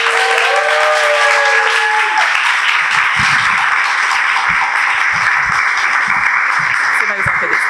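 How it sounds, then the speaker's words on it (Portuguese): An audience at a poetry recital applauds a performer with dense, even clapping that carries on steadily after a short musical tone at the start, with no talk over it. "Palmas para a Anne, gente."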